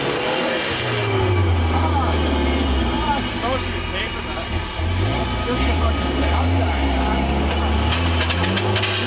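A truck engine labours in snow with a rough, nasty-sounding drone, a steady heavy rumble that persists loudly for the whole stretch, with voices faintly present.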